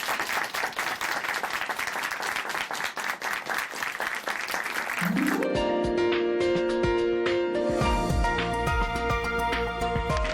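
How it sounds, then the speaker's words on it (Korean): Applause at a Korean church broadcast welcoming a guest, loud dense clapping from a crowd for about five seconds, then giving way to music as it fades. "박수로 맞이해주세요."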